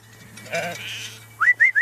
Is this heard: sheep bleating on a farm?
yes